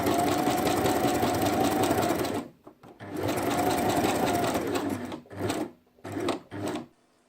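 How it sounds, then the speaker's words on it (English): A sewing machine top stitches along the inner edge of vinyl for a Disney mouse card holder, its needle whirring in a fast steady chatter for over two seconds, then resuming in a longer run followed by several short bursts. "we're only going to top stitch along the inner edge"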